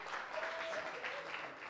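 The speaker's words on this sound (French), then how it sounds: "En tout cas, on applaudit, s'il vous plaît." A short burst of audience applause, many hands clapping steadily together.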